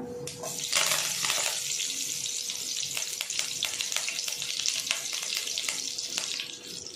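Cumin and curry leaves sizzle in hot oil in a pan, starting with a loud burst of spitting and crackling, then settling into a steady close fry with sharp pops and no voices.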